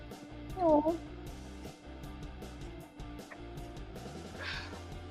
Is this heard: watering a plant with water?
no